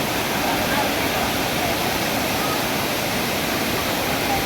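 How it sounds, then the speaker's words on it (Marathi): A steady, dense rush of falling water fills the scene, constant and even throughout. "धबधब्यात पाणी पण बऱ्यापैकी कमी झालं आता"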